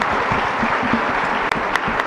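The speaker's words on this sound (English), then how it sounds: "A big round of applause for the men in the audience." Dense, steady applause from a conference audience at an International Women's Day tech event, loud and continuous throughout with a few sharper individual claps.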